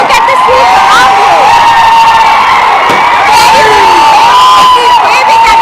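Dense, loud crowd at Gandhi Bhavan cheering and whooping continuously as a winning Congress leader, Revanth Reddy, arrives, with shrill shouts and whistles rising over a constant roar.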